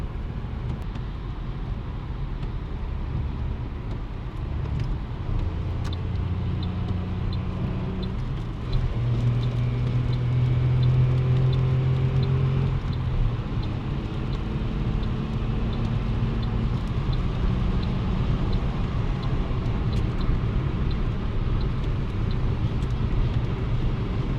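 Steady road and engine roar heard from inside a car driving in traffic on a Portuguese motorway at roughly 120 to 130 km/h, a constant low rumble and tire noise with no talking.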